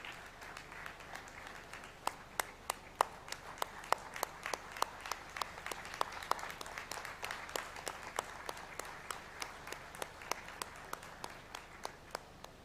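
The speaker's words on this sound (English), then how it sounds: "A big hand of applause for Miss Ayushi Tandon, please." Audience applause at a university convocation ceremony for an award winner, steady dense clapping from a large crowd with sharp individual claps standing out, continuing evenly throughout in a hall.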